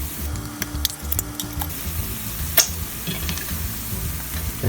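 Garlic sizzles in a hot frying pan with a steady, close crackle and a few scraping stirs near the start, ending in a sharp clink partway through.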